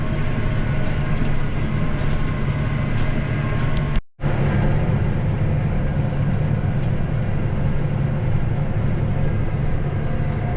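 A tractor pulls an Opico Vari Disc cultivator through a field in a steady, loud, continuous engine and machinery drone, broken only by one very brief dropout.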